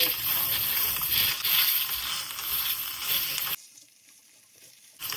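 Steady hissing sizzle of minced pork frying in hot oil in a wok over high heat, loud and continuous, then cutting off sharply to near silence before returning briefly.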